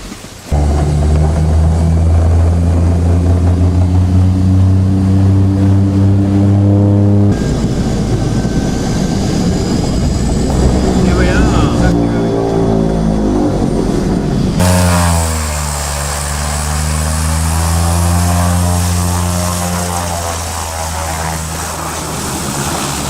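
A propeller aircraft engine droning loud and close during a polar race, a steady deep thrum with shifting tone as the plane changes power.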